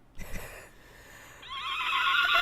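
A person imitates a horse neigh with the voice, a brief breathy start followed by a rising, shrill whinny that holds for about a second, close and fairly loud.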